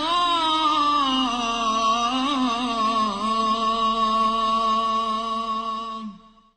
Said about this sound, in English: This is the sound of an Islamic call to prayer.